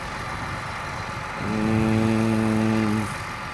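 A tractor runs at a construction site where gravel is being screened, a steady engine drone that swells into a stronger humming tone midway and then eases back to the background rumble.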